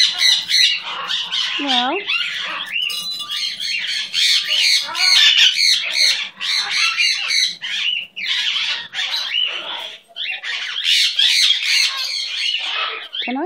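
Loud, harsh parrot squawks repeat throughout, mixed with chirps and whistles close by, while someone speaks warmly over and between the calls.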